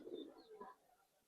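Old-breed Giribaz pigeons, silver variety, giving a brief soft throaty coo, quiet and close, fading to near silence.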